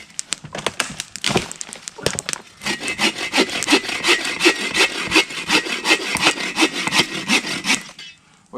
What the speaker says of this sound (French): pour vous montrer comment elle coupe bien cette scie-là.